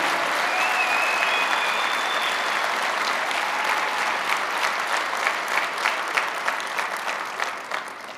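Audience at a union state-of-the-union meeting gives a sustained round of applause, a dense even roar of clapping that holds steady and tapers slightly at the end, with a faint tonal squeak early on.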